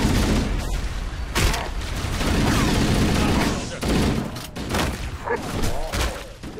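Dense gunfire and explosive thumps in the sci-fi shooter Halo Combat Evolved Anniversary roll on continuously through a busy battle, with voices talking in the middle of the action.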